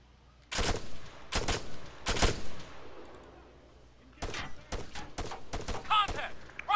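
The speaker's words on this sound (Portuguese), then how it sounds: "Estão atirando em mim aqui dentro" ARMA 3 firefight with gunfire aimed at the player inside a base under attack: sharp, loud shots in quick clusters, three spaced cracks, a brief lull, then a tighter volley of rapid reports close by.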